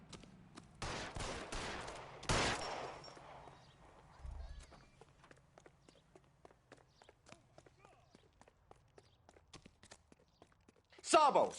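Gunfire in the video game L.A. Noire, a burst of loud close shots early on, then scattered quieter clicks and taps, ending with another sharp loud report.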